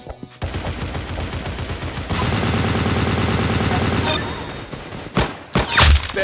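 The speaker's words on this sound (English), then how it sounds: "Very good shooting." Gunfire in the Arsenal video game: a sustained rapid machine-gun burst in the middle, preceded by scattered shots and followed by a few louder single bangs, close and dense.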